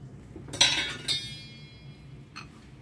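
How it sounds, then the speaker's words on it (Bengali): In a home kitchen, a lid comes off a container with two bright metallic clinks close together. A fainter clink follows a moment later against quiet room tone. "চাপাটা খুলছি।"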